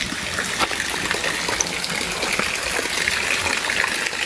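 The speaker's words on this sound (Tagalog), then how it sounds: "ginawa nilang alulod para makakuha ng tubig papunta doon." Water gushing and splashing through a makeshift gutter channelling mountain spring water outdoors in Bicol, a loud, continuous rushing flow with no voices.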